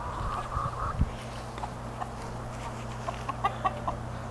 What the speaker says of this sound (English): There's my three first chickens right there.